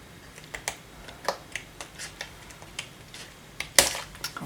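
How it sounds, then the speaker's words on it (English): A cardmaker trims an extra strip off a floral embossed card, making a series of small, sharp clicks and snips close by, ending in one louder crisp cut. "So I'm going to go ahead and cut off the extra piece at the bottom."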